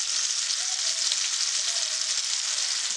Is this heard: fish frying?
yes